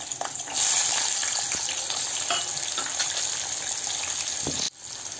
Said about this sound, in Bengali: তেল গরম হয়ে গেছে, এবার আমি আলুগুলো দিয়ে দিচ্ছি।